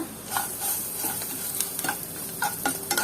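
Paneer with pepper and salt stirred and sautéed in a pan for a toddler recipe: a quick series of spoon scrapes and stirs over a faint, soft sizzle, close and alone.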